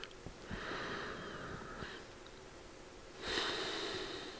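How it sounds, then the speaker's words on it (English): Slow deep breathing during a relaxation exercise, a long airy inhale followed by a stronger exhale, close and quiet over faint background hiss, no talking. "take a couple of nice deep breaths."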